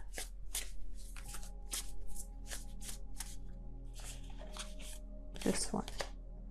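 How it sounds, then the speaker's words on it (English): Tarot cards riffled and shuffled in quick repeated bursts of crisp card slaps, close up, with a faint tonal hum underneath and a heavier flurry near the end. "I don't know what's going on with my shuffling right now."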